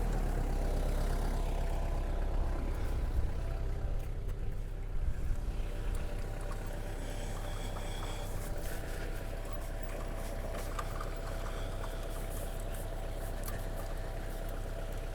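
A Reist Industries Infielder ground-grooming machine idles steadily, its low engine rumble continuous and fairly loud throughout with no voices.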